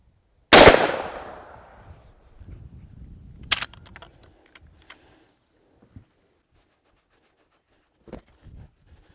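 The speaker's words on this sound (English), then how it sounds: "now we'll go with the Winchester PDX-1 load. This has the 3 discs and the 12 BBs" A Henry .410 lever-action shotgun fires a single Winchester PDX-1 defense load of three discs and twelve BBs, a loud sharp blast that decays quickly outdoors, followed by a metallic lever clack and scattered faint handling clicks.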